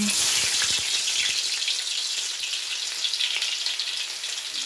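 Garlic sautéing in hot oil in a pan for chicken pansit bihon, a steady bright sizzle with scattered crackles, loud and close throughout and without talk.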